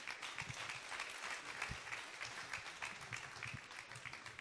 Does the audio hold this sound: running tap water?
no